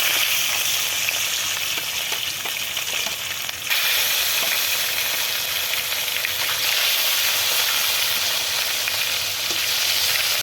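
Marinated river fish frying in hot mustard oil in a pan, a loud, steady, close sizzle and crackle that fills the whole stretch with no talking.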